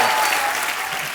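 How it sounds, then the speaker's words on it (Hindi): Studio audience on a television comedy show breaks into loud, dense applause, a continuous roar of clapping heard close and full throughout the short moment. "एक बार हंस बाजी के लिए, नवराज के लिए जोरदार तालियां"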